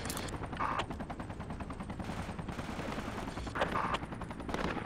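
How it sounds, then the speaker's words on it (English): Gunfire in the video game Project Reality crackles in dense, rapid bursts, with steady machine-gun fire and a few sharper louder shots over a continuous background of combat. "We're taking fire."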